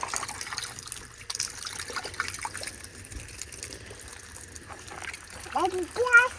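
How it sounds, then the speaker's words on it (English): Running water trickling and splashing as a child washes their face at a campsite, a low continuous flow with a parent's and a voices talking over it. "Aditi, wash face."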